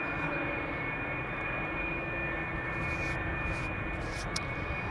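A Belgian-registered, 11-year-old TUI jet airliner departing Amsterdam Schiphol for Willemstad, Curaçao, giving a steady, fairly faint engine roar with a thin high whine across the whole stretch and no talk.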